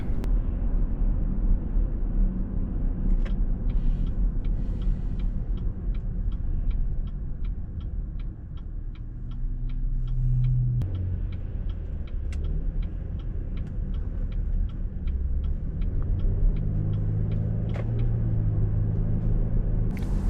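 A car travels along the approach road toward the parking area at Silver Dollar City in Branson, Missouri, its steady engine rumble and road noise continuous and close throughout, with faint regular ticking riding on top.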